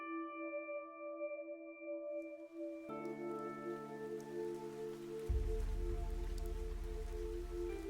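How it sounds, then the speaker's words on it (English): Rain falling in the game Fantasian Neo Dimension, a steady patter under sustained musical tones that swell and grow louder partway through. "It was raining."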